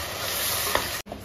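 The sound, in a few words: stone-ground masala sautéing with onions in a pan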